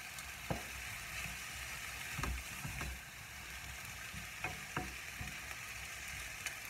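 Courgette and green vegetables sizzle in a pan with a faint, steady frying hiss, broken by a few light clicks and knocks of stirring.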